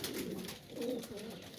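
Pigeons coo softly during their weekly bath, low throaty rolling coos repeated in quick succession, faint and close amid light background noise.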